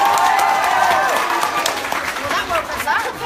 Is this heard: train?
no